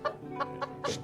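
A fighting rooster clucks close by in a quick series of four short, throaty clucks. The last one is louder and rougher than the rest.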